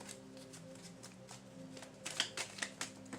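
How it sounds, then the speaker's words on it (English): Tarot cards are shuffled near the microphone, a quiet riffling that builds into several crisp, brisk flutters over a low steady hum. "Shuffle them again."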